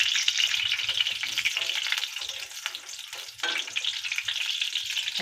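Ghee sizzles and crackles steadily in a hot pan while sheera is being made, a dense close frying hiss with faint stirring scrapes and no talk.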